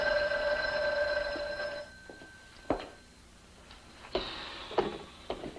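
A telephone bell rings in a radio drama, a sustained trill that cuts off after about two seconds, followed by a few sharp knocks and clatters like a receiver being handled.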